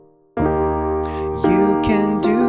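Gospel passing chords for a worship song, played as sustained full chords that change every second or so, close and clear with no talking.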